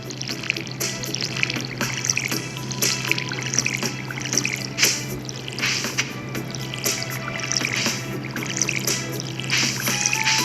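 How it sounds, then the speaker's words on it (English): Watering crops with a watering can in the farming game Stardew Valley: a continuous trickling, splashing water sound with small irregular drips runs steadily throughout, fairly loud, with no talking. "Water my crops."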